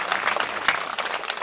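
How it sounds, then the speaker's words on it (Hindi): Audience clapping at a Hindi-language talk on India's new criminal laws, a steady wash of scattered handclaps at moderate volume that runs the full length without pause, with no talk over it. "चलो इनके लिए ताली बजाओ"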